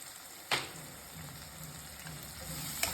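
Turmeric is stirred into puffed rice frying in a pan for lemon rice, a faint steady sizzle with a sharp spoon scrape at the start and another near the end.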